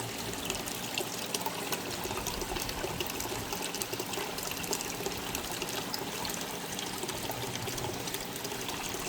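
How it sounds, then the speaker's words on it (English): Water pours steadily into plant containers, a soft continuous trickling and splashing at moderate distance with no voices. "Looks like we need to add some water again today."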